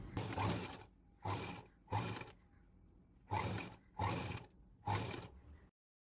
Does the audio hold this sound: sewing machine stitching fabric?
yes